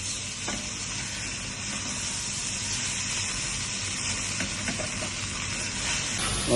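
Tomato paste sizzles and fries steadily in a hot pan for a Cassoulet, a continuous close hiss with occasional soft stirring clicks, no voices.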